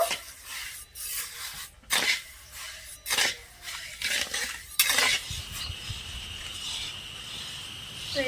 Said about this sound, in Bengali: নেড়ে চেড়ে ভালো করে চিনিটা একটু গলিয়ে নেব